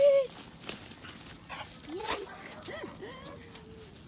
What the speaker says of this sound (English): Puppy!